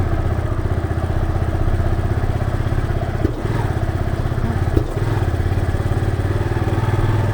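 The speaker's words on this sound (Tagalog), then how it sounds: "Hindi ko mabakbak yung motor, nagko-cold start." A cold-started motorcycle engine idles roughly and continuously, steady and close, with a couple of brief thuds partway through.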